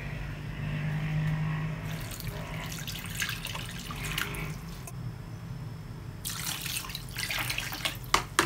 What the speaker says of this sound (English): Now guys, we are adding water.